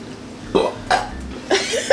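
Three short, throaty burps, each a quick guttural croak, come one after another at close range with brief pauses between them.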